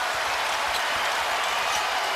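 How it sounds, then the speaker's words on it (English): A packed basketball crowd roaring at Rupp Arena after a Kentucky three-pointer against Auburn, a loud sustained wash of cheering and applause with no pause. "And this crowd is juiced at Rupp"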